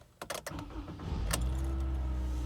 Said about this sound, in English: Now let's start my car engine and see if there is any maintenance required light